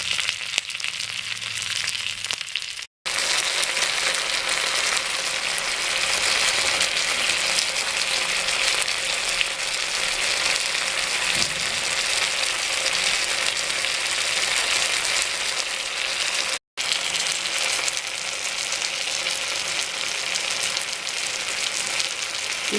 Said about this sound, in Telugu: తరిగిన పుదీనా వేసుకొని కాస్త వేగనివ్వాలి.